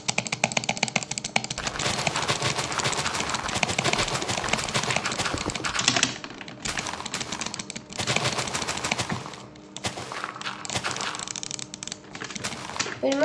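Rapid butterfly clicking on a computer mouse for PvP play, a dense stream of sharp clicks at around twelve per second, close and loud, with short pauses and quiet talking between bursts.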